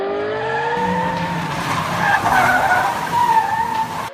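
A Chongqing taxi with a 1.5-litre natural-gas engine launches at 5000 rpm, revving high and accelerating hard while tires squeal and skid, loud and close, rising pitch across a few seconds.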